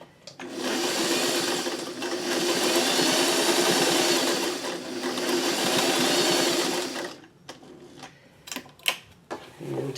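A sewing machine runs a straight stitch in a steady, close mechanical whir, in three long runs with brief slowdowns, then stops; afterward come a few light clicks and handling noises.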